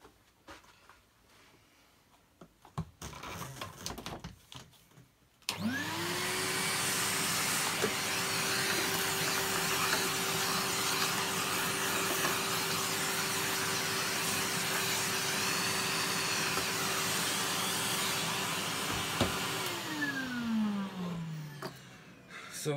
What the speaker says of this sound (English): let me get the vacuum